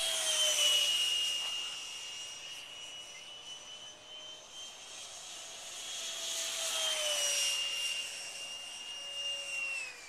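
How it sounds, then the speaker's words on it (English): A radio-controlled Alpha Jet with a 68mm electric ducted fan whines through the sky, its high-pitched tone rising and falling as it passes and maneuvers, steady and moderately loud throughout. "I don't think I've ever seen a RC jet flip around that fast."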